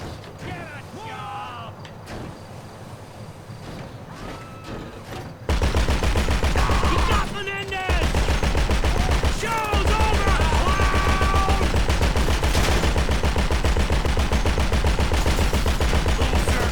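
Gunfire in GTA 5, quieter at first, then sustained loud rapid shots and bursts layered over game noise and mechanical clatter, with a voice talking over part of it.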